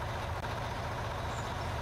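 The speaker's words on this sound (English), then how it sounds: "Someone's got a truck running. It's loud." A loud truck engine idles steadily in the Out of Ore mining video game, a close, continuous low rumble heard alone.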